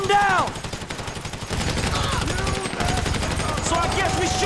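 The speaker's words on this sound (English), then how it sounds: "So I guess we're shooting our way out of here!" Shootout gunfire in the video game GTA V: dense, continuous rattling volleys of shots across the whole stretch, loud and close, with voices shouting over the firing.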